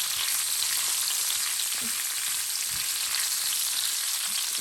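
Merguez omelette (ojja merguez) with peppers frying in oil, a dense, even, continuous sizzle close up with a few faint soft knocks.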